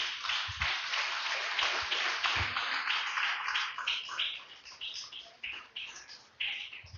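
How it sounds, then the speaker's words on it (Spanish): A church congregation claps in praise during a Spanish-language worship service, the applause dense at first and then thinning into scattered claps, heard at a moderate distance. "Den un fuerte aplauso al Rey"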